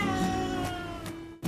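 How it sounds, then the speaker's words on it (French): A house cat gives one long, drawn-out meow that stretches over a second, close and fairly loud, then starts another call. "En fait, cela le faisait encore plus miauler."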